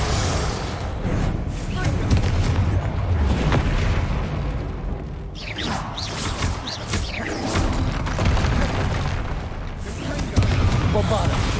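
Confringo fire spells in Hogwarts Legacy burst in repeated booming explosions that swell and crackle, layered with game effects and a voice talking over the action.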